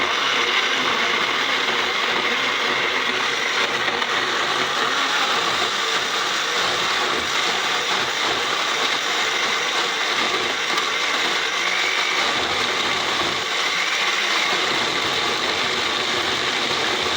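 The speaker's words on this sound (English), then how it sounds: "I'm going to set the blender on puree so it will really blend very" Blender set to puree running steadily on a chicken marinade, a continuous loud motor whir with a broad, unbroken roar that holds constant throughout with no talking.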